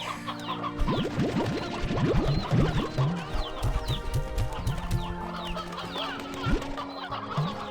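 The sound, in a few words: chickens clucking in Slime Rancher 2 video game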